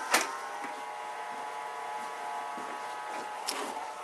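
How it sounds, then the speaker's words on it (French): A small cooling fan inside a battery charger whirs steadily at low volume, a constant hum with a couple of faint clicks, close up and with nobody talking. "Il y a un petit ventilateur pour refroidir."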